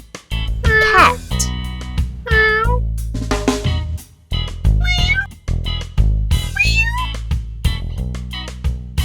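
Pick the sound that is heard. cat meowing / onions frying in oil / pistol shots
cat meowing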